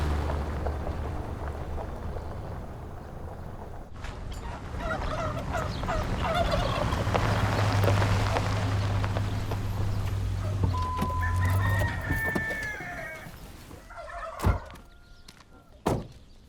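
Turkeys gobbling on a farm, repeated rattling calls at a moderate distance over a low rumbling background, followed by a few sharp knocks near the end, with no talk.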